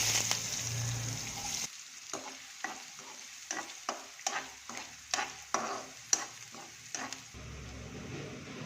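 Onion dropped into hot oil already crackling with cumin and mustard seeds: a steady fry hiss gives way to a run of sharp stirring scrapes and pops in an even rhythm, fairly close, with the sizzle swelling again at the end.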